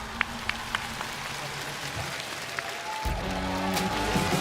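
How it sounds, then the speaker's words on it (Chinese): Studio audience applause on a TV singing competition show, a sparse patter of claps that thickens into fuller clapping in the second half, moderately loud with a low hum underneath. "再次把掌声送给2位。"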